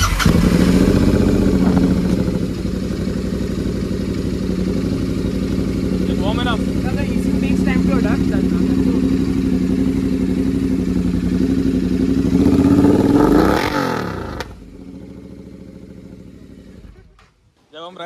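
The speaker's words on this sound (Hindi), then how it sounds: "SS Motocop 2:1. SS Motocop exhaust है." Royal Enfield Continental GT 650 with an SS Motocorp 2:1 aftermarket exhaust idles and revs while stationary, a loud throbbing twin-cylinder burble with blips, then shuts off; a voice speaks briefly over it.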